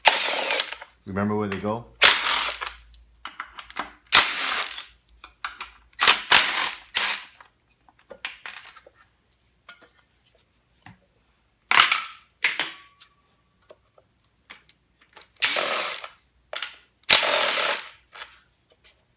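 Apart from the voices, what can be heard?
ratchet removing 10mm timing cover bolts on a 3SGTE engine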